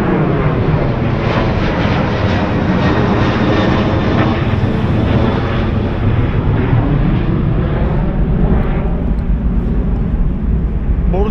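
An airplane roars steadily and loudly overhead on a street in Charleroi, Belgium, a continuous engine drone that stays close throughout without fading.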